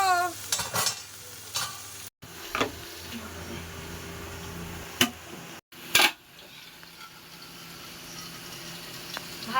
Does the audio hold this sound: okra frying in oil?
yes